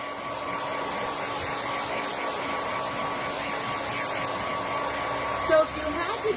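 A hair dryer blows with a steady, continuous whir at close range, held for several seconds with only a brief bump near the end and no one talking over it.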